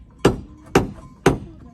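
A hammer drives nails into wood with four sharp, evenly spaced blows about half a second apart, each close and loud with a short ring.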